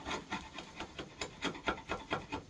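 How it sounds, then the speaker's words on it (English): Hand plane shaving dried glue blobs from a bass guitar body's wood, close and quiet, with a steady run of short rasping strokes repeating about every quarter second. "So you get all these blobs of glue off. Get the blobs of glue off, a little bit of planing."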